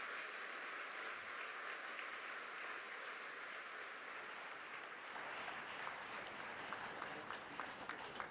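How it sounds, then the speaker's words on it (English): Distant, faint applause from a large audience at the 2023 Africa Climate Summit, a steady wash of clapping that grows slightly crisper toward the end. "One more round of applause to all the speakers who have spoken so well."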